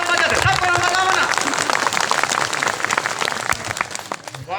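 A crowd at a Gondwana political speech claps and applauds loudly and continuously, dense sustained hand-clapping with cheering voices mixed in throughout.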